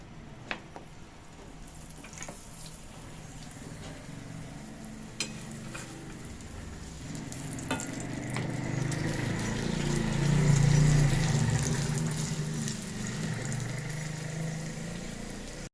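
Mooli paratha frying in oil on a pan over low heat, giving a steady soft sizzle that swells slightly midway, with a few light clicks and scrapes.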